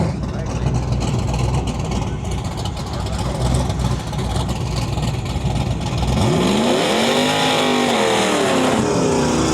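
Dodge Demon and Ford F-150 drag racing side by side at a strip after days of rain, loud roaring engines at full throttle with a rising, sweeping engine pitch near the end, under a commentator's voice.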